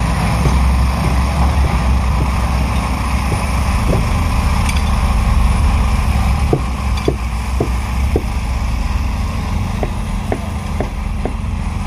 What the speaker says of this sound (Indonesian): Satu lokomotif dan 2 gerbong datar pengangkut mesin pengelasan memasuki terowongan.